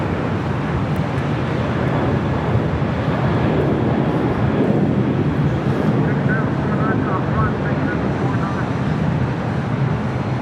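An airplane at Los Angeles LAX airport: a broad, continuous jet roar that holds steady at a moderate distance, mixed with wind buffeting on the microphone.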